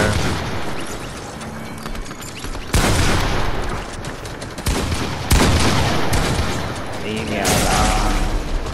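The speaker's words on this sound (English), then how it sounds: "I'm getting shot from somebody else." Gunfire in a Fortnite solo arena match, repeated sharp loud shots and bursts spread across the span, including several heavy booms, with a voice talking over the shooting.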